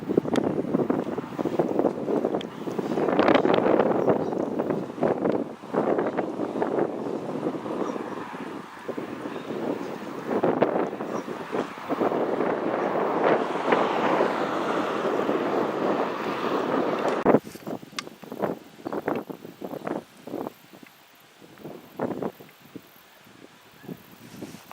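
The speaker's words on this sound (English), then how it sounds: "It is real windy today" Strong wind blows outdoors during a honey bee swarm removal in Santa Rosa, Texas, roaring and buffeting the microphone in steady, loud gusts that ease into choppier, fainter bursts near the end.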